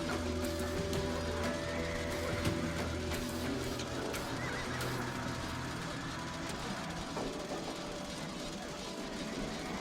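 Horses neigh and whinny amid a dense, steady battle din in Age of Empires 2, with scattered hoof clatter and a continuous low rumble throughout.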